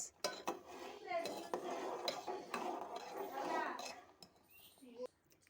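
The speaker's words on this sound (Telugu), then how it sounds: "ఇలా మరుగుతున్న ఎసరులోనే ఉప్మా రవ్వ వేసుకొని తిప్పుకోవాలి" Metal utensils scrape and clink against a pot as semolina is stirred into boiling water, with a steady bubbling hiss underneath and occasional sharp knocks.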